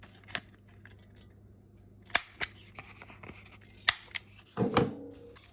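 Scissors cutting rounded corners on paper, giving a handful of sharp, separate snips with quiet pauses between them and a slightly longer crunchy cut near the end, close and clear.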